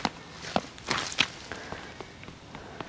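Footsteps crunch over hard, rocky farm soil on poor ground where grass won't grow, a few quiet uneven steps with sharp scuffing taps, faint and close, no talking.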